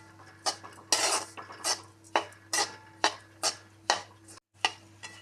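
A spoon scrapes and clinks rhythmically in a pan while sesame barfi ingredients are mixed over low heat, about a dozen evenly spaced strokes, close and clear with no talk.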